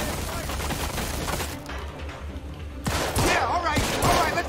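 Gunfire in the crime game Mafia II, bursts of rapid shots crackling at a moderate level, with sharper nearby reports in the second half.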